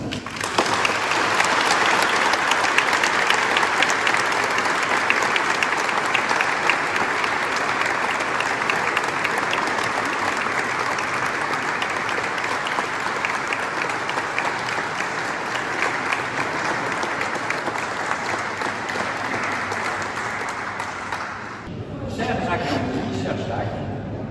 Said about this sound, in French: Je vous demande d'applaudir Jacques Tanguy